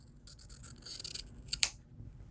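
Scissors trim quilt fabric during foundation paper piecing, giving a short run of soft close snipping strokes that ends in two sharper cuts, quiet and without talk.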